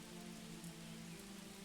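Rain falls in the Manor Lords strategy video game as a steady, even hiss of drops on surfaces, continuous and unbroken through the short stretch, with no voices.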